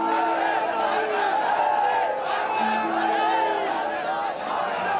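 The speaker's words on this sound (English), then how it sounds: "Ecstatic crowds of BJP supporters started to celebrate the election win before it was official" Large crowds of BJP supporters celebrate an election win, a dense, loud roar of many voices cheering and shouting continuously.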